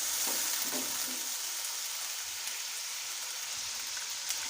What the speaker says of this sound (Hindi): लहसुन, अदरक, हरी मिर्च का पेस्ट अच्छी तरह जो है वो मैंने फ्राई कर लिया है।